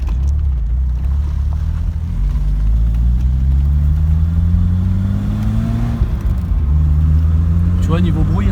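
Peugeot 205 GTI with a 1.9-litre engine, a steady low rumble that climbs gradually in pitch as the revs rise, dips briefly, then rises again, loud and close throughout.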